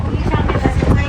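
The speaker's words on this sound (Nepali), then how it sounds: "हावा" Gusting wind buffeting outdoors, a loud low rumbling rush that pulses unevenly over about a second.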